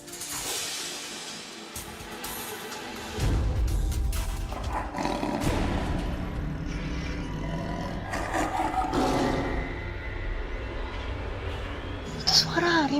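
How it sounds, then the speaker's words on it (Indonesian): A tiger roaring: deep, powerful roars rise and swell close by, mixed with people talking and other noise, with a sharp sound near the end. "Itu suara harimau."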